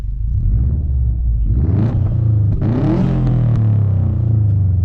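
A Saab 9-2X Aero with a Subaru WRX EJ205 engine and a single rear muffler gives a loud, deep exhaust rumble that swells into a rev and holds a throaty drone, close by, with no talking.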